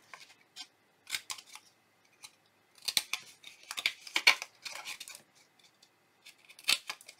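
Scissors snip through scored paper card for a Halloween tombstone treat box, giving sharp close crisp cuts in irregular bursts with short quiet pauses between them.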